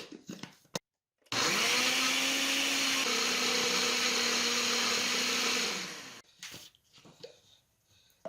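A blender roars steadily for about five seconds at close range blending a jerk chicken marinade with olive oil, its motor pitch shifting slightly midway, with brief clatter before and after.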